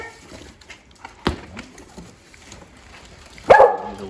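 A dog gives a sharp bark followed by a louder whimpering yelp, brief sounds over a quiet indoor room where a helmet is being unboxed.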